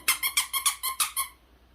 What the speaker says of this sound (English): Have to get her squeaky toy out.